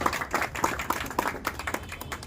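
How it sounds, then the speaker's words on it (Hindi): An audience claps to welcome radio jockey Jeena at a meet-up, with a brief patter of scattered hand claps at moderate distance. "तो तालियों से एक बार जीना जी का स्वागत कर दीजिए आप सभी लोग।"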